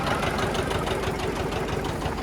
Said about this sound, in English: This is the tractor running.